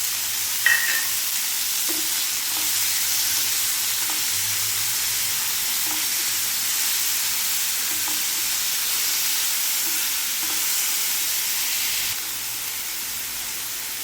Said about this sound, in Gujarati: અને એની સાથે જ આ વટાણા પણ નાખી દઈશું એટલે ચડતા થાય।